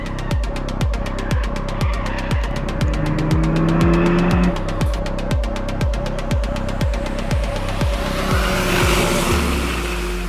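An Alpine A110 R Ultime sports car laps the Bugatti circuit at Le Mans, its engine rising and dropping in rapid repeated sweeps with loud, close revving and faint tire noise, with no talking.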